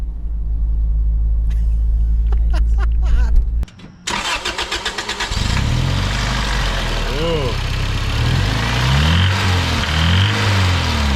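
Toyota 1ZZ-FED engine cranks and catches, then runs with a harsh, crunchy lifter-type ticking riding over a loud, close idle; a voice speaks briefly near the start.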